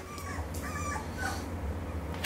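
Four-week-old Aussiedoodle puppies whimper and yip close by in a short run of high, thin cries over a steady low background hum, with no talk.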